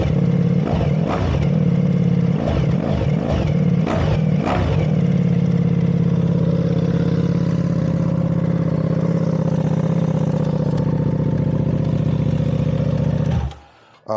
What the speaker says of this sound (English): we'll fire this up so you hear the exhaust.